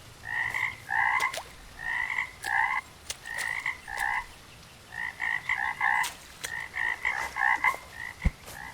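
A frog croaks repeatedly in the sci-fi horror fishing game Gone Fishing, loud paired croaks in steady bursts over a faint hiss, with occasional sharp clicks.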